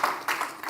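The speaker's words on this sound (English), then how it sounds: "Can you have a round of applause for that?" Brief burst of audience applause at a corporate sustainability report launch, dense clapping swelling twice over under a second, fairly close and moderately loud with no talk over it.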